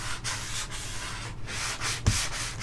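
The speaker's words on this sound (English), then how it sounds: "I'm sanding the corners a little bit" Hand sanding the corners of art journal tiles, a close, steady scratchy rubbing in rhythmic back-and-forth strokes with one brief knock partway through.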